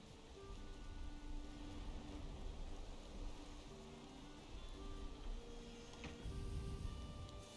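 A steady rainstorm hisses in the Valheim video game, a broad, continuous wash of rain and water noise with faint tonal hum beneath, constant throughout with a slight swell near the end.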